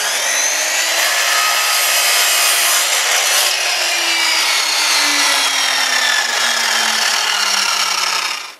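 Power tool disc cutting wood while fitting wooden panels onto a wall, a loud continuous whining grind with a steady descending motor tone, close and uninterrupted for about eight seconds before stopping.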